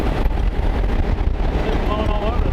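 Heavy wind roars steadily through the cabin of a 1938 Ford Custom moving at highway speed with holes in the floor, a dense, loud rush mixed with engine and road noise throughout.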